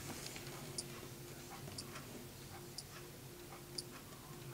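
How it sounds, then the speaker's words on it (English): Faint, high-pitched ticking from a Waterford crystal quartz clock with a plastic movement, small sharp clicks about once a second over a quiet hiss. "It makes a small ticking sound, like it sounds like this watch right here."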